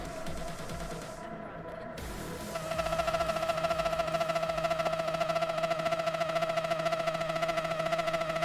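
A Mazda 787B race car in a racing video game holds a loud, steady, high-pitched engine drone at full throttle, rising in after a short quieter stretch.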